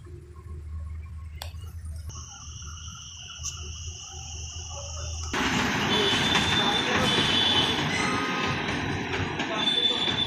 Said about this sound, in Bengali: ট্রেন থেমে গেল দেখতেছেন দর্শক